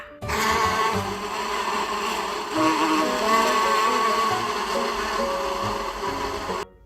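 A bee's steady, continuous buzzing drone holds for several seconds at an even level, then cuts off abruptly.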